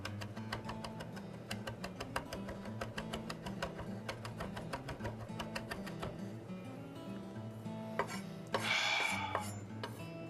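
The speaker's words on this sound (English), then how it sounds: "So I'm going to chop these thyme." A knife chopping fresh thyme on a cutting board, rapid evenly spaced taps under low background hum, close and steady, then stopping near the end.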